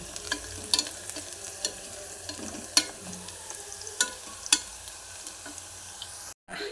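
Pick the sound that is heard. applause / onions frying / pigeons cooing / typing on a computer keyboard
onions frying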